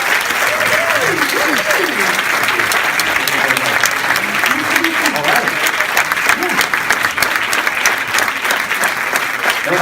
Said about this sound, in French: Je vous demande de faire un tonnerre d'applaudissements pour accueillir une véritable légende dans notre métier